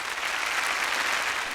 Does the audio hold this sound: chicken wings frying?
no